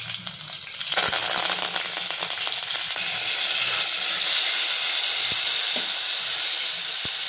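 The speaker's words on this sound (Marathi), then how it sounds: "इथे बारीक कट करून घेतलेला लसूण टाकायचं आणि आपल्याला कढीपत्ता टाकून घ्यायचा।" Finely chopped garlic and curry leaves hit hot oil in a pan, giving a loud, steady sizzle and hiss that swells slightly partway through, with faint stirring clicks.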